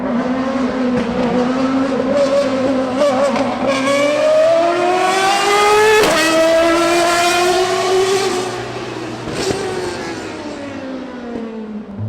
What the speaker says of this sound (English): Being this close to a Formula One car and listening to it drive through the streets of Cape Town was a surreal experience.